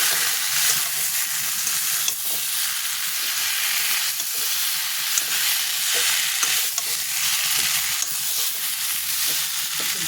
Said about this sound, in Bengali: আলুগুলো মশলার সঙ্গে একটু কষে নেবো